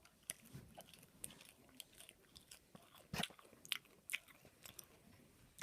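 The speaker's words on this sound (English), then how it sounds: "This is a leaf of a rocket. I'm going to taste it" Close, quiet chewing of a crisp rocket salad leaf, a series of sharp crunchy bites and moist mastication clicks spread irregularly across a few seconds, with no talking.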